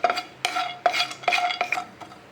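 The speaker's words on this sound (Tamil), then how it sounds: "இப்போ பாதாம் முந்திரி நம்ம வறுத்து எடுத்துக்கலாம்." Almonds and cashews being dry-roasted in a metal pan, stirred with a spoon in repeated scraping, rattling strokes roughly every half second, close and clear with no talking.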